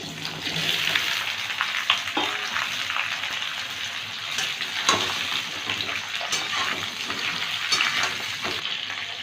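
Raw mango pieces fry in mustard oil with dried red chillies and five-spice tempering, a loud continuous sizzle with scattered crackles and stirring scrapes close by.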